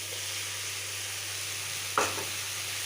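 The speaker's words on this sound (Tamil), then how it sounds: "இதையும் நல்லா சேர்த்து ஒரு வதக்கிக்கலாம், பச்சை ஸ்மெல் போகிற அளவுக்கு." Sautéed onion with a tomato and green chili paste cooks in a pan, giving a constant hissing sizzle over a low hum, with one brief scraping stir near the end.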